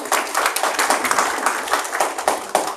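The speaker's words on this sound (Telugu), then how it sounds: "చప్పట్లు కొట్టండి" An audience at a motivational talk claps together in a brisk, continuous patter of many hands, close and fairly loud throughout the short stretch.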